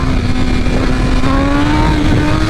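A 2023 BMW M1000RR superbike engine revs steadily and loudly for a few seconds, a strong continuous drone with a slowly rising pitch and no voices over it.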